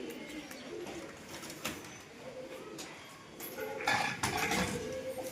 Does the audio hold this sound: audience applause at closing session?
no